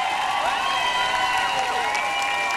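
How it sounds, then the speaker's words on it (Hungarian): A crowd at a rock concert in a music club claps and cheers, broad noise under sustained ringing tones, steady and loud throughout. "Biztató tapsot neki!"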